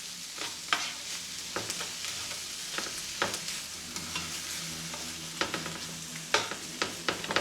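Washed white rice, peeled chopped tomatoes and raw ground beef are stirred together in a pan, with a soft sizzle under repeated close scraping and clacking strokes of a spoon.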